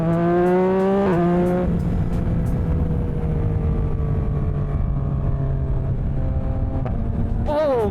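A tuned 2026 Yamaha R9 motorcycle with a BAUCE Racing tune revs through the gears, its engine note rising and falling, with a few sharp exhaust crackles and pops standing out near the start and end.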